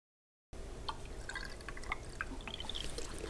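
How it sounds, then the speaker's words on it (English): A water and vinegar mix trickles and drips as it is poured into the cooling system of a Husqvarna TE250i motorcycle, a steady close liquid splashing with small droplet sounds, no talking. "So here goes the water vinegar mix."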